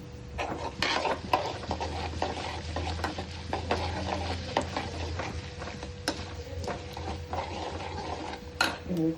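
Fresh curry leaves and asafoetida sizzle in hot oil during tempering for a ginger chutney, a steady frying hiss with clinks of a spoon against the pan and stirring scrapes throughout.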